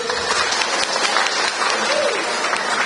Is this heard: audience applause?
yes